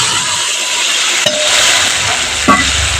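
Water poured into spice paste frying in a pan, a loud continuous hiss and sizzle with two sharp bursts as the liquid hits the hot oil, close and unbroken by talk.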